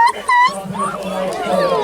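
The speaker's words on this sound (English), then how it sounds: "Never seen so many dogs." Hounds at the Berkeley country show yip and whine in short, high excited bursts close by, mixed with a person's speech over the top.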